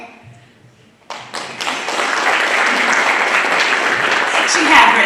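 Audience applause at a school board meeting breaks out after about a second of near silence, a dense, sustained clapping that holds steady and swells slightly toward the end.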